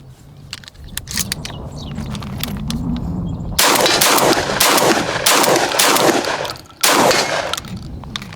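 Rapid shotgun fire from a Benelli M3 dual-mode action, loud broadband blasts in quick succession with short gaps, preceded by lower rumbling and clattering handling noise.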